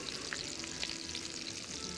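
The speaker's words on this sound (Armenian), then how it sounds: "տապակը թող տաքանա ձեթը դաղվի" Oil heats in a frying pan with a faint, continuous crackling sizzle at low volume, with no one speaking.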